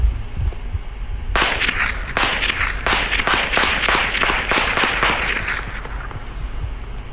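A rifle firing 7.62x39 rounds lets off a rapid string of about ten loud, sharp reports close by, starting after a quiet opening second and fading into quieter ringing at the end.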